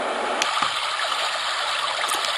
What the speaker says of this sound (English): This is the brook, which I quite like.